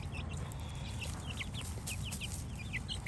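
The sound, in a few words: chickens and roosters clucking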